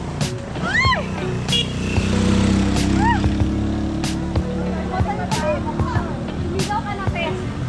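A motorcycle engine drones past on a road up a steep hill, a steady loud hum running under several people talking and shouting nearby.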